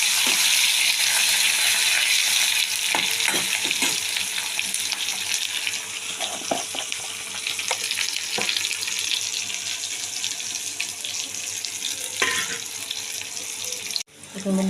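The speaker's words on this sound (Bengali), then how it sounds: "এখন বন্ধুরা আলু ভাজা হয়ে গেছে।" Potato pieces frying in hot oil in a home kitchen, giving a steady loud sizzle and hiss with a few scraping stirs and clinks, and a sharp knock near the end.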